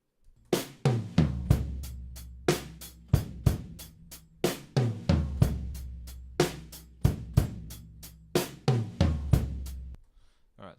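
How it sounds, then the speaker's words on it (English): Unprocessed raw drum tracks from a studio recording play alone: a steady groove of punchy kick and snare hits with bright cymbal wash, close and loud, stopping briefly partway and ending cleanly. "this is the raw drums"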